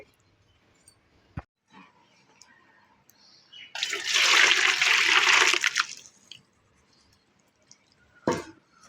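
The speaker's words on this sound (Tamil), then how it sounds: "இதை உடனே நம்ம வடிகட்டிடுவோம்" Water poured off through a strainer while making a savoury snack mix, a loud close splashing gush lasting about two seconds amid otherwise quiet kitchen clicks and knocks.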